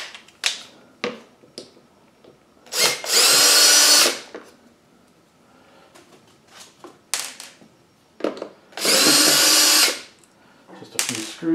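A power drill removing several screws from a plastic shield during a trackball install in an Arcade1up Atari Legacy cabinet; two loud whirring bursts of a few seconds each, separated by small clicks and handling taps.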